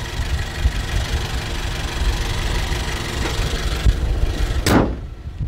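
A 2018 Honda CR-V Touring's 1.5-liter turbocharged engine idles with a steady, loud, close mechanical rumble. A brief whooshing sweep comes near the end.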